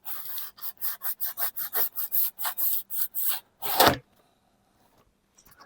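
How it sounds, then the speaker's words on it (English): The back surface of a GR Corolla bumper is roughened by hand, with about a dozen even, rhythmic rubbing strokes up close, then one longer harsher stroke and silence after, with no talking. "Let's just lightly roughen up this back surface here."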